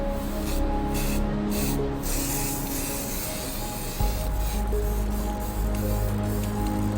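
Green paint misted from a spray can onto a Harry Potter prop, a steady soft hiss running for several seconds amid faint background ambience, with a low hum shift partway through.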